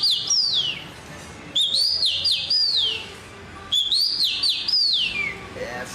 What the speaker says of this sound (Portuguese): O Tico-Tico é um passarinho que ele parece um pardal